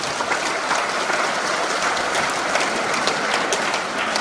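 Loud, dense clapping fills a hall at a pastors' couples seminar at a prayer retreat, a continuous close wash of many hands with no break for the whole stretch.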